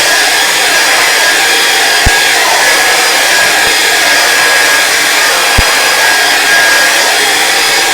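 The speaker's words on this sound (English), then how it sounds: "we're going to take the dryer again, this thing, and we're going to dry this really good" A hair dryer blows loudly and steadily right up close while drying a wet landscape painting of mountains, one unbroken whoosh with a couple of faint clicks and no talking.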